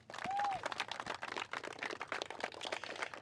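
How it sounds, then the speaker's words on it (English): A crowd at a Bataan Memorial Death March event in Prescott breaks into dense, steady applause, with a short whistle near the start. "So give yourselves a round of applause for showing up today."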